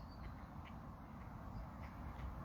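Faint ducks quack softly at a distance on water where swans swim, with a few short calls over a steady low background hush.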